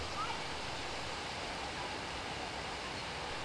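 Water pours steadily over a weir on the river Saale beside a mill at Westheim, a dense, even rushing hiss that stays constant throughout at moderate loudness.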